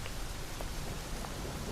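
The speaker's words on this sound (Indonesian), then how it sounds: "Sudah reda, masih gerimis-gerimis." Soft, steady patter of light rain, a faint continuous hiss with occasional tiny drops, no voices.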